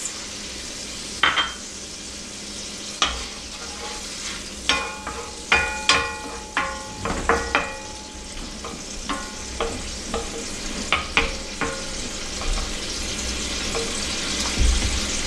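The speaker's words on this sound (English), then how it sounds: "Throw my capers in. Cook those down a little bit." Capers sizzle and fry down in a pan with lemon juice nearby, a steady hiss under a series of sharp stirring clicks and scrapes of a utensil against the pan.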